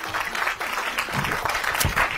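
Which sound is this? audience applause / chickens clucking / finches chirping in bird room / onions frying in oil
audience applause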